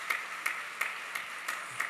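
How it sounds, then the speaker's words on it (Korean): Faint, evenly spaced claps ring out in a church during a Sunday worship service as the congregation welcomes a pastor, about six separate claps at a slow, regular pace. "우리 인사하실 때 먼저 박수로 환영해 주시면 감사하겠습니다."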